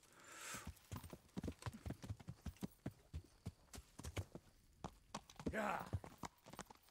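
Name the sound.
horse hooves clip-clop in Kingdom Come video game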